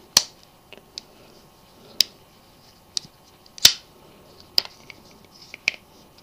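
Handling a Leatherman Wingman multitool and folding its broad flathead screwdriver produces a handful of crisp metallic clicks and snaps at irregular intervals, one louder than the rest, close against a quiet room.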